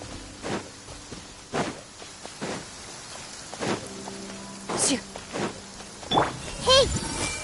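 Rain falls steadily in the video game Genshin Impact, a soft continuous patter under a scattering of short, louder thuds and clatters, with brief voice-like chirps near the end.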